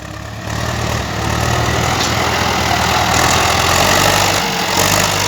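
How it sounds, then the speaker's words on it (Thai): Ford 6610 tractor engine running steadily while pushing soil at a contract earthmoving job, a loud continuous low diesel rumble close by with no talk. "นี่อยู่ครับ รถไถฟอร์ด"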